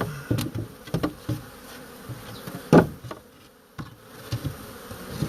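Honeybee swarm around a wooden box, a soft buzzing hum under scattered close knocks and thumps, with a louder bump partway through.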